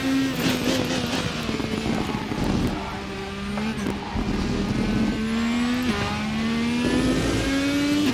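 A race car engine at full throttle on a lap of Silverstone in a racing game, heard as a loud, close, droning whine that climbs in pitch and drops at gear changes, then climbs again, with no voices.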